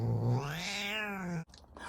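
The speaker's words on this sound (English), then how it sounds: "That's my cat." A domestic cat lets out a long, drawn-out yowl that rises and bends in pitch, close and loud, ending abruptly in a brief growling rasp.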